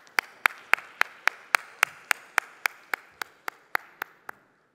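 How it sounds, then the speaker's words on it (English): Crisp, evenly spaced single claps ring out one at a time, about sixteen in a steady rhythm, close and sharp with a short reverberant tail, as an investment forum audience welcomes a panel. "Please give them a round of applause as they come."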